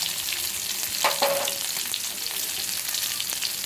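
Chopped ginger and spices fry together in hot mustard oil for chicken kala bhuna, making a steady, close sizzle with a few stirring clicks and scrapes, and no voices.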